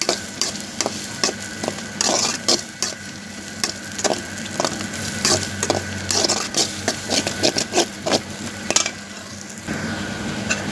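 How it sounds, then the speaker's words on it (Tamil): A carrot and egg stir-fry with three eggs is stirred steadily in a hot pan, giving rapid repeated scraping strokes of the spatula over a continuous sizzle, loud and close. "நல்லா கிளறிக்கிட்டே இருக்கலாம்."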